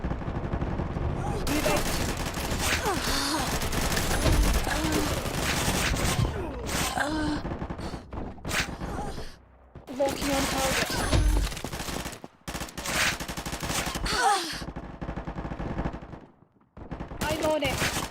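Video game gunfire with rapid automatic bursts and scattered single shots, loud and dense, broken by short gaps, mixed with other game sounds and talk.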